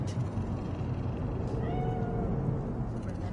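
A cat meows repeatedly in a video game set in Night City, the mews near and fairly loud over a low ambient rumble.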